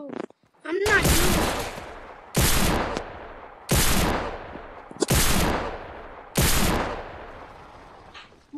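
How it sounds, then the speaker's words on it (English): Gunfire in the video game Fortnite, five loud bursts of rapid shots spaced about every one and a half seconds, each ringing out and decaying, heard close with no talking over them. "he's trying to shoot me"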